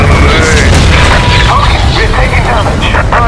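Leman Russ tank cannon firing in a Warhammer 40,000 video game battle, a loud booming blast that fills the short stretch amid heavy rumbling combat noise, with voices shouting over it.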